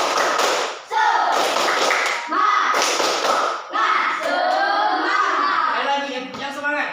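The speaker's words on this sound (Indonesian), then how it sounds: "Ayo, tepuk semangat. Tepuk semangat." A group of children stands and claps a quick rhythmic pattern while chanting along in Indonesian, close and loud with brief pauses between bursts.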